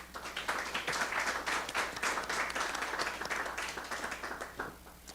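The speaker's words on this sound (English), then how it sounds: "I think that warrants a round of applause." Applause from attendees at a city school board of education meeting rises quickly and holds as a steady, moderately distant patter of many hands, then fades out over a few seconds.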